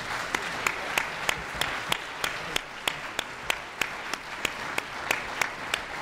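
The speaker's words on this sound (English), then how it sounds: "could we give our panelists a round of applause" Audience at a presidential leadership panel clapping for the panelists, steady applause at moderate volume with a few sharper, louder claps standing out at regular intervals through the stretch.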